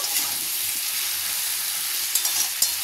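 Chopped vegetables fry in a pan before greens go in, a close, continuous sizzle with bright crackling and a few sharper spatters toward the end, and no talking.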